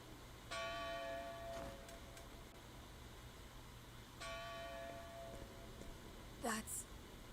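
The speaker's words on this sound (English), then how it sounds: "That's the Bell of Dawn." Bell of Dawn tolling in the video game Octopath Traveler II, two resonant strikes a few seconds apart, each ringing out and slowly fading, followed by a brief bright chime.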